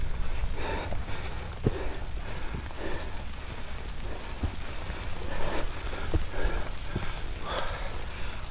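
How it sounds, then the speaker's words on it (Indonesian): Rain and wind on a mountain hiking trail on Mount Ungaran, a steady patter of drops with gusty rushing noise and scattered sharp taps, moderately loud and continuous, no talking. "Hujan-hujan angin."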